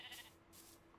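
Sheep bleating inside the video game Minecraft, a couple of short, fairly faint bleats close together over a low steady background hum, with no talking.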